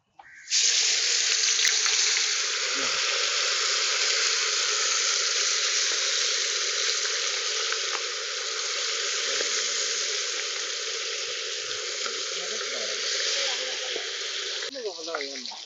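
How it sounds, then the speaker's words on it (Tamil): Marinated anchovies frying in hot oil give off a loud, steady sizzle that holds for the whole stretch, with faint bubbling and clinks near the end. "மீன் ஊறிடுச்சு. எண்ணெயில போட்டு பொரிச்சுக்கலாம்."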